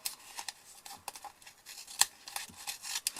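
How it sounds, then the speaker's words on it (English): Scissors snip through fabric washi tape backed with double-sided tape, giving several quiet, close, irregular cuts with short gaps between them. "So I've put my double-sided tape on and then I basically just cut."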